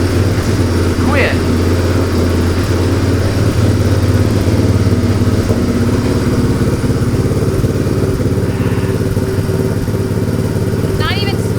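A motorcycle engine idles close by with a steady low rumble and chug, and a few brief higher squeaks or clatters break in over it.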